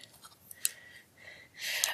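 Crayola Signature Brush & Detail dual-tip marker caps are snapped back onto their plastic barrels, giving a few short, close, crisp clicks and light plastic scrapes with brief gaps between them.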